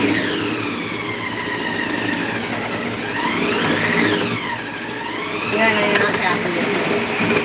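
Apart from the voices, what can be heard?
food processor grinding food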